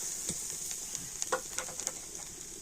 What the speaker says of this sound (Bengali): নারকেলটা আমি কড়াতে দিয়ে দিচ্ছি